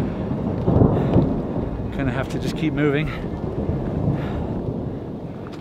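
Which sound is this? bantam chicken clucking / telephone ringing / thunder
thunder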